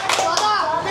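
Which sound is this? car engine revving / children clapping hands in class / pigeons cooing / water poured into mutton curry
children clapping hands in class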